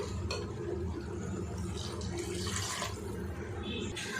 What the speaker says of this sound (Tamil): நான் அளவு தண்ணி சேர்த்துக்கிறேன்